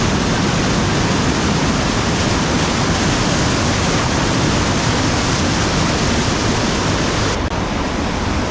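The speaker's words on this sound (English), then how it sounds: "The water coming through this creek, or McKenzie River rather" Rushing water of the McKenzie River in Oregon fills the scene with a loud, constant broadband roar, steady and close, with no voices.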